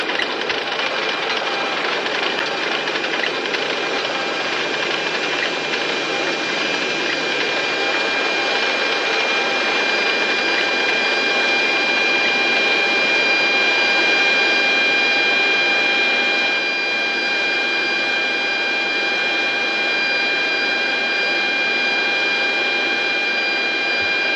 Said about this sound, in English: I'll just continue braking and reversing the plane until I'm done